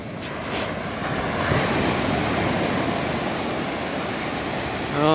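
Ocean surf washing onto a beach at sunrise on Amelia Island, a steady broadband roar of breaking waves with some wind noise on the microphone, loud and continuous without pause.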